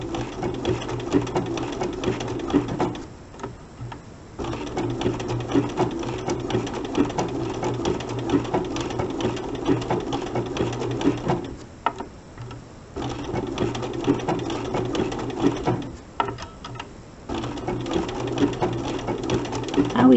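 A sewing machine runs a buttonhole stitch around a circular applique, humming and chattering steadily up close in long runs, stopping briefly three times between bursts, with no voices.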